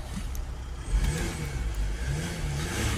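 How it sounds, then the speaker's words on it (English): Revving of a Mercedes GL350 3.0 V6 diesel with a DPF sensor fault: the engine climbs to a louder whir, eases back, then rises again in a steady rumble, close by with no talk. "Rev it up and down."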